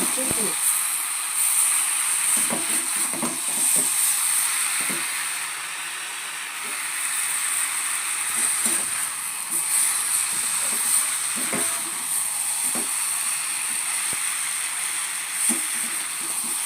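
Mixed winter vegetables sauté in a pan with a steady hiss of sizzling, close and continuous, broken by occasional clinks of a stirring utensil and light background speech.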